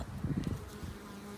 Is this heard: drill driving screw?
no